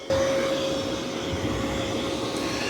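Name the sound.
Mova V50 robot vacuum vacuuming a carpeted room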